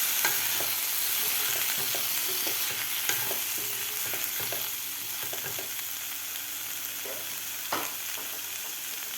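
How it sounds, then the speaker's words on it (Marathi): Potato and cluster bean curry being stirred in a pan, with a steady close sizzle of frying and repeated scraping strokes of a spoon, alone and fairly loud throughout. "आता आपल्याला व्यवस्थित मिक्स करून घ्यायचं आहे."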